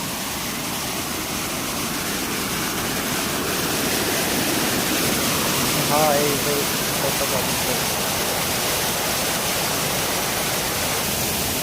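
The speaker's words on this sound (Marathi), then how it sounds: "हा आहे धबधबा." A small waterfall on the flooded Jamda river produces a loud, continuous roar of rushing water, and someone speaks briefly over it.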